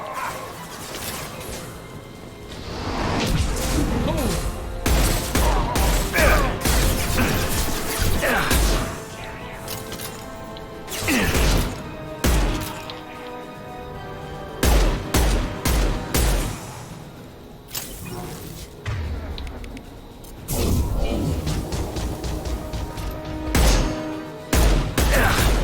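Hand cannon gunfire in the video game Mass Effect 2 sounds as a string of loud, sharp shots and impact crashes in irregular bursts, mixed with game effects and talking.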